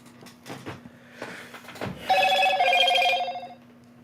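A telephone rings with a short trilling electronic burst near the end of the clip, preceded by soft clicks and handling noises in a quiet room.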